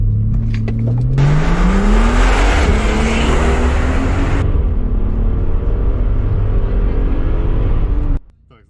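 A Mercedes G65 V12 biturbo 6x6 accelerates hard in a drag test: a loud, close engine roar climbs steadily in pitch for about seven seconds, then cuts off abruptly.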